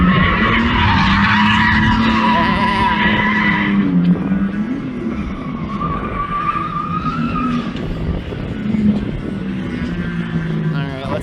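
Car drifting on a plains track, engine droning at high revs with tire skid and squeal throughout, loud and close, with voices talking over it.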